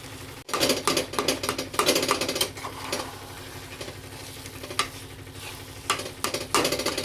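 Carrot halwa with khoa and sugar being stirred in a pan, a steady scraping churn with a soft sizzle underneath, continuous and close throughout with no talk.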